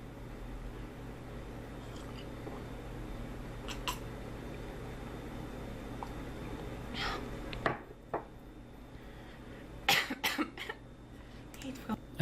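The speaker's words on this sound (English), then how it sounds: "that was a feminine cough that he just attempted to make" A few short, sharp coughs break out near the end after a stretch of quiet room noise, close to the microphone.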